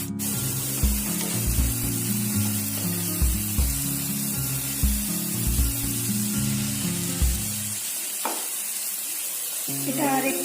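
Mushrooms frying in a pan, a steady sizzling hiss under a continuous bed of music with occasional stirring clinks.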